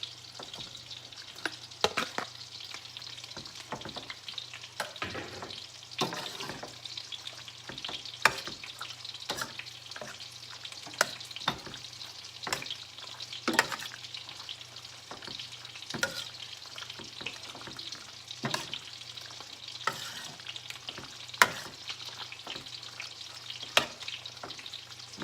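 Cooked pasta is stirred into Alfredo sauce in a pan, with a gentle sizzle and repeated scraping and clacking of a utensil against the pan at an irregular pace, close by.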